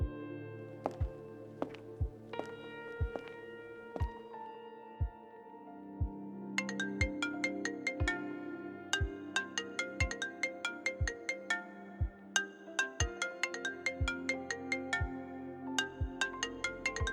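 A telephone rings unanswered in The Sims 2, its repeated electronic tone sounding in a regular pattern alongside steady soft thumps, with no voices.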